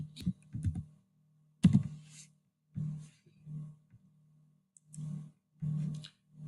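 Bursts of computer keyboard typing entered on a ticket website, clustered clicks in short rapid runs separated by brief pauses, fairly close and alone with no talk.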